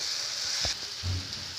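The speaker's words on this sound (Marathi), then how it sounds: "पीस टाकून घेतल्यानंतर त्याला व्यवस्थितरित्या हलवून घ्यावं मसाल्यामध्ये" Fish pieces stirred into curry masala in a pan, giving a soft continuous sizzle with a brief scrape of the spoon, fairly quiet and close, no talking.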